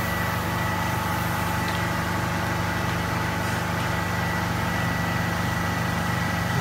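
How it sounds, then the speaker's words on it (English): Air compressor running inside a mobile air unit van, a dense, steady mechanical drone with a pulsing low hum that stays constant and loud throughout. "Now that we turn the compressor on, we have to turn all these valves on to get air into them."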